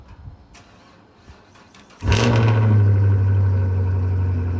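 After a quiet stretch with faint rustles, a Chevrolet cranks and fires up following months parked through a Canadian winter, then settles into a loud, steady idle close by.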